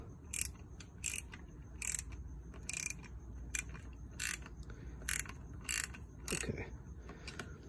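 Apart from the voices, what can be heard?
loosening a stubborn bolt on a Sur Ron horn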